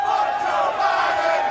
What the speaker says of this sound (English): as you can hear the chants from the crowd